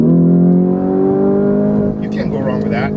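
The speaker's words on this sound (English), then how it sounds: "now you can hear the V8 really wail" A 2020 Lamborghini Urus V8 revs up loud and close, its steady harmonic wail rising and sustaining, with a voice speaking over the engine toward the end.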